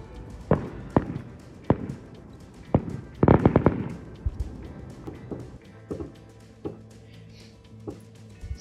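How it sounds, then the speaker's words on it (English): Several sharp bangs and pops of fireworks go off outside at a distance near Bakewell, spaced irregularly, with a quick cluster of cracks in the middle against a quiet background. "Good job you two don't bother about fireworks"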